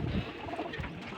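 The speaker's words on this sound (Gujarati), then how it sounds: "બધા કબૂતર પૂરાઈ જાય છે આપણે." Pigeons coo softly nearby, a low burbling call that opens the moment and fades into faint background murmur.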